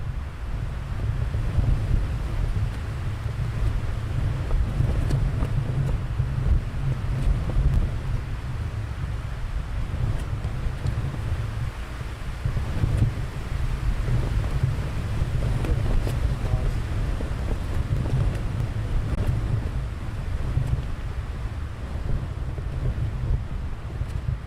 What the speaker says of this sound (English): I would say the wind is now definitely at the peak of its strength.